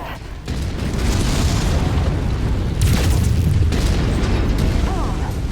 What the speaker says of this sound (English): Target mech destroyed.